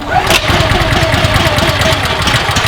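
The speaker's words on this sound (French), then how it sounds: "va démarrer le moteur et on va allumer l'eau" The petrol engine of an HP Bathex pressure washer, built for construction work, starts and settles into a loud, close, rapidly chugging mid-pitched run.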